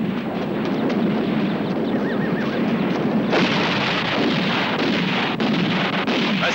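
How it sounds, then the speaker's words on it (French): Dense, continuous rumbling barrage of distant artillery booms and blasts from a 1968 film battle, with sharper cracks breaking through in the latter half, loud and unrelenting. "Il faut renforcer les tirs d'artillerie."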